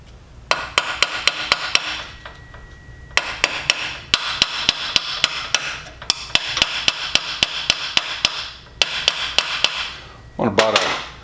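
A hammer tapping roll pins into the parts of a DIY welding positioner kit, sharp metallic strikes in quick bursts of repeated taps separated by short pauses, close and loud.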